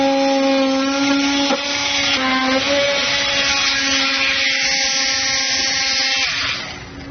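A power tool whines steadily while cutting out material during a Curt front-mount trailer hitch receiver install on a 2023 Chevrolet. The loud, continuous, close-up buzz tapers off at the end.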